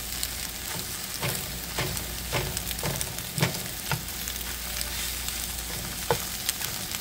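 Vegetables cooking in a pan for breakfast, a continuous close sizzle with regular scraping stirs and occasional clinks against the pan.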